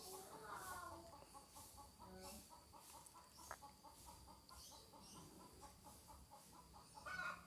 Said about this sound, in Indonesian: ada ayam berkokok di luar